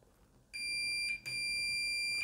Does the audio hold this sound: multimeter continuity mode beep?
yes